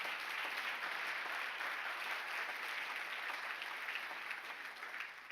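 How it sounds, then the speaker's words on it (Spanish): A church congregation applauds strongly in a sustained, even wash of clapping that holds steady and tapers slightly at the end, with no voices over it. "Dele fuerte el aplauso al Señor."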